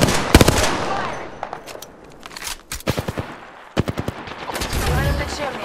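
Rapid bursts of automatic gunfire crackle through a video game firefight, with clusters of loud close shots and a steady rattling roar between volleys.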